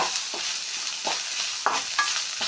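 Chutney ingredients frying and being stirred in a pan, with a steady soft sizzle broken by repeated scraping strokes of the spoon at a fairly even rhythm, close up and with no talking.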